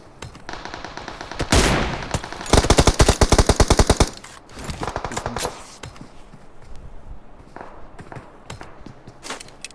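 Gunfire in the video game PUBG Mobile on the Erangel map: a loud single blast followed by a rapid automatic burst lasting about two seconds, then scattered fainter shots and game noise.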